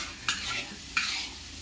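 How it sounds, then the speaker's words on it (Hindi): Masala frying for a chicken dish, a soft continuous sizzle broken by two scraping stirs of a spoon, quiet and near, no talk. "अभी मसाला खाली फ्राई हो रहा है ना? मसाला फ्राई हो रहा है।"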